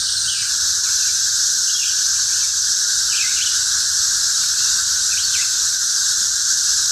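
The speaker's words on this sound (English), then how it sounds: "Operation Cicada sound footage," Loud, steady cicada buzzing fills the air, a dense high-pitched drone with faint bird chirps now and then, close and continuous.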